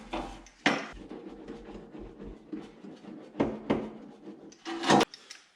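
A small hand roller pressed and rolled over sound-deadening material on the door panel of a 1973 Datsun 240Z, giving soft scraping rolls broken by sharp knocks and clacks against the metal, close up and intermittent.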